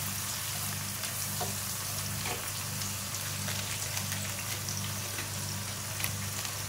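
A pan sizzles steadily while spices including garam masala powder are sautéed, with dense crackling, occasional stirring scrapes and a low background hum.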